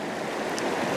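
Water cascading down over a rock at Deil's Cauldron, a steady broadband rush of falling water filling the whole second with no break, close and fairly loud.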